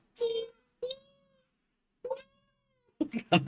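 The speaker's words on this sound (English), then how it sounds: "The cat outside's meowing at you now." A cat meows close by three times in slow succession, the cries rising and tailing off, followed by a brief burst of people talking.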